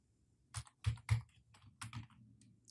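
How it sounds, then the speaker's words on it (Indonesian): Keystrokes on a computer keyboard while a version command is entered, a handful of distinct taps spaced irregularly, close and fairly quiet with no talking. "di sini kita ketikkan Composer version"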